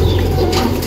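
Pigeons cooing steadily while feeding, a close, loud, continuous low murmur of several birds with a faint whir of wings; no talk.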